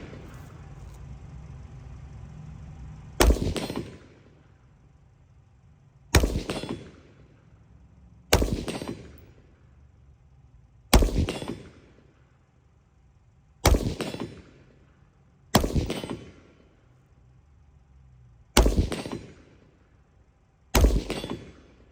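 Eight loud rifle shots from a 12.7 rifle with a carry handle sight at an outdoor range, fired singly at steady intervals of about two to three seconds, each sharp crack followed by a rolling echo.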